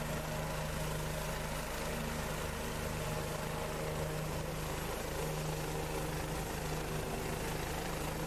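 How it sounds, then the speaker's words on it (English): A helicopter in the X-Plane flight simulator hums with a constant low rotor and engine drone, steady and unchanging, with no voices. "I mean, she's absolutely beautiful, that helicopter."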